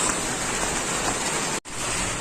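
Rain falling steadily, a loud, dense hiss of broadband patter that continues without letup apart from a brief cut near the end.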